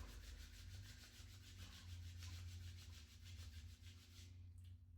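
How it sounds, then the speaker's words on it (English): Two hands rubbing briskly together to warm them, giving a steady, close, continuous friction swish in a quiet room, easing off near the end. "go ahead and rub your hands together"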